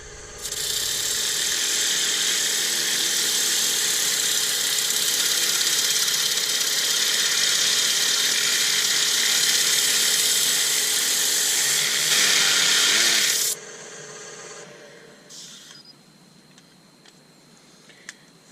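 A wood lathe sands a small hawthorn bowl, giving a loud, steady high-pitched whine and whir for about thirteen seconds before it cuts out and winds down to quiet.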